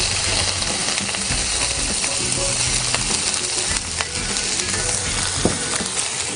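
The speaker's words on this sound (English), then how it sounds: "So we're going to throw our onion into a skillet here." Onions in a skillet with butter and olive oil sizzle in a dense, steady hiss of frying with small crackles and pops scattered throughout, close and continuous.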